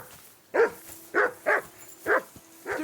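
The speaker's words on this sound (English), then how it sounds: "Call that dog, Henry. Who the hell can listen to that" A dog barks in the medieval video game Kingdom Come Deliverance II, five sharp, evenly spaced barks at moderate distance with a faint steady hum underneath.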